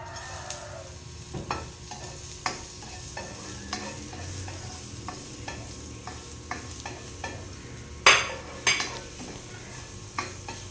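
Onion fries in a pan with garlic already in it, a steady sizzle broken by repeated scraping stirs of a utensil against the pan and a couple of louder clanks near the end, with no one speaking.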